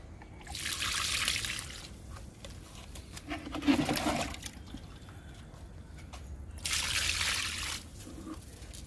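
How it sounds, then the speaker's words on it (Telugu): Liquid compost poured onto a potted lemon plant, in three separate trickling bursts of splashing liquid. The pours are soft and close, with quiet gaps between them. "నిమ్మ మొక్కకి లిక్విడ్ ఇచ్చేద్దాము."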